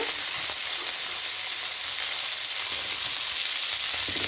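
Vegetables with green peas and eggplant frying in a pan, a dense, even, close sizzle that holds steady throughout with only faint stirring.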